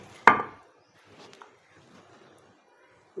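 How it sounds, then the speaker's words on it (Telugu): A stone mortar takes one sharp, loud pound while salt, tamarind and green chillies are crushed for a coconut and ridge gourd chutney, followed by faint scraping and a soft knock at the end. "మెత్తగా కొడుతున్నానండి."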